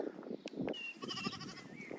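Sheep that have jumped a fence bleat on a farm, several wavering calls at moderate distance, mixed with outdoor rustle and faint background noise.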